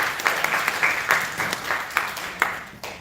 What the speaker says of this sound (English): Other round of applause, absolutely right.